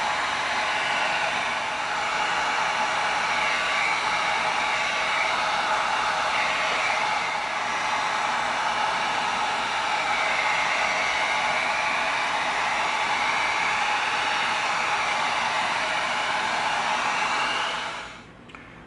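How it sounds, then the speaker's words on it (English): Heat gun running while heat sealing EVA foam, a steady close blowing roar with a high whine that holds evenly for most of the time, then cuts off near the end. "We're going to get our heat gun going, let it get heated up."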